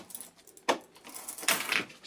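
Keycaps are pressed back into place on a faulty shop till keyboard, giving two sharp plastic clicks with light rattling in between.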